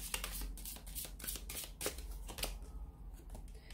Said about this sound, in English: I'm just going to give the cards, the angel, the answers, oracle cards, a shuffle here